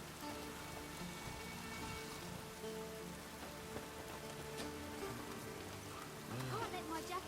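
Steady rain falls on the city streets in The Witcher 3: Wild Hunt, a constant soft patter beneath intermittent in-game voices and faint background sounds throughout.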